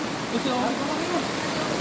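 Flash floodwater rushes through Bernardino Street in a steady, dense roar with no break, heard up close.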